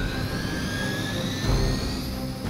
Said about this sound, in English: Disable the Hydra helicopter before it can depart.